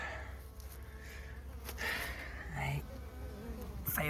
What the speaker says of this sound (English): I thought was another bee swarm leaving its hive and just ending up here.